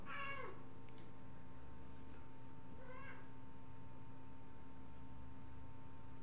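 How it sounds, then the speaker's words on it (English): A domestic cat meows indoors, one drawn-out cry followed by a second shorter one a few seconds later, fairly close but soft over a quiet background hum. "That was my cat."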